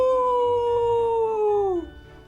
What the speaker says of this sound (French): Une meute de loups féroces les attaquèrent. Ils poussaient des « Ouh ! Ouh !»